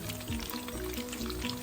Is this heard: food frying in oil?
yes